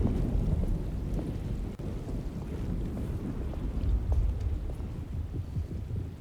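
Thunderstorm in the Alone in the Dark video game: continuous heavy rain and deep rolling rumble with gusting wind, filling the whole stretch evenly with no voices.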